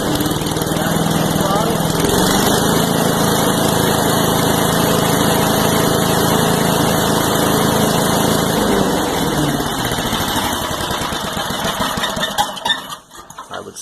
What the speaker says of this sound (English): I went ahead and started it up and it fired right up. Kicked it up on the full throttle.